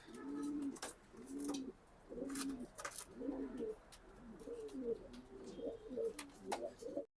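Racing pigeons coo steadily in a loft, soft rhythmic low calls repeating throughout, with occasional sharp clicks and rustles of wings nearby.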